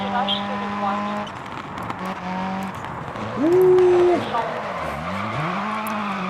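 A Ford Fiesta WRC in the Dirt Rally video game brakes hard into a tight right-hand turn, its engine note dropping and then rising again as tires scrub the surface, heard close under a voice.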